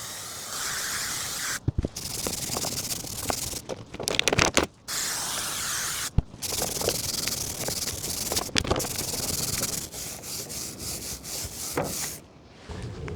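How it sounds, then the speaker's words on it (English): Chain cleaner hisses from an aerosol onto a motorcycle chain in repeated close bursts, with short gaps and light rubbing between sprays. "Or you can use a chain cleaner."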